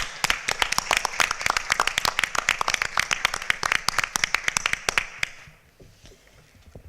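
A small group at a school board work session claps for three retiring women, distinct hand claps in an uneven patter that thins out and stops after about five seconds, leaving quiet room tone.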